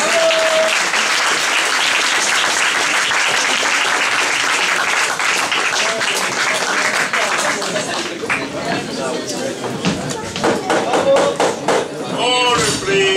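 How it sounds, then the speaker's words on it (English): A debate audience gives the jury members a sustained round of applause, dense clapping that fills the hall and then thins into scattered claps toward the end. "Please give the jury members some applause."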